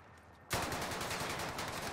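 A sniper rifle fires in the video game Rebirth. The shot cuts in abruptly and loudly halfway through, followed by a sustained rattling burst of gunfire.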